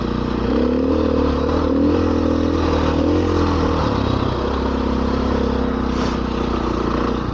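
Pit bikes riding by on Rampart Range Trail 627 in Colorado, a loud continuous buzzing drone of small engines with shifting revs over constant motorcycle engine rumble and wind noise.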